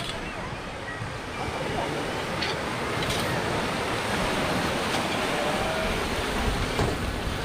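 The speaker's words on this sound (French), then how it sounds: "Les vagues, ils vont quasiment jusqu'aux tables" Ocean waves wash up onto a beach scattered with sargassum seaweed beside seaside tables in central Playa del Carmen, making a steady, broad roar of surf that carries on without a break through the whole stretch.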